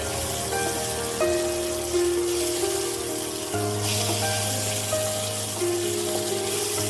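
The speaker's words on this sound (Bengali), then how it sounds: "কাঁচা লঙ্কাগুলো হালকা একটু ভেজে নেব, যতক্ষণ না কাঁচা লঙ্কার একটা ভালো সেন্ট বেরোচ্ছে।" Green chillies lightly frying in a pan for a Bengali dish, with a steady close sizzle and crackle running throughout alongside a low hum.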